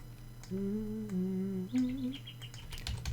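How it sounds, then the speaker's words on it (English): Bird calls from the Digimon World 1 game soundtrack: a pair of sustained whistled tones followed by a quick run of high chirps, moderately loud over a constant low hum. "The bird noises you're hearing right now are from Digimon World 1."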